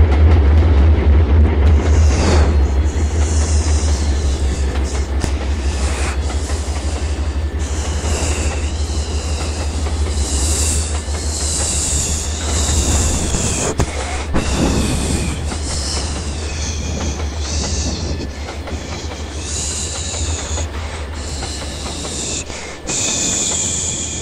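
An excursion train running on rails at a rail yard in Springfield, Massachusetts, with a deep constant rumble, repeated high wheel squeals and hissing over about twenty seconds, close and loud, no voices.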